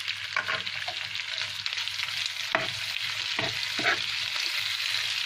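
Hyderabadi-style chicken curry fries in a pan with curry paste, giving a steady close sizzle and hiss broken by several scraping strokes of a spoon stirring the pan.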